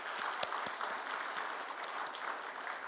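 A church congregation at a Sunday worship service claps steadily as a sustained wash of applause, fairly quiet and distant, with no voices over it.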